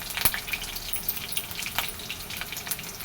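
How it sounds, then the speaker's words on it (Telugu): Crushed garlic and dried red chillies fry in hot oil with a soft, steady sizzle and faint crackles, close up and quiet, no voices. "దంచిన వెల్లుల్లి వేసుకుందాం"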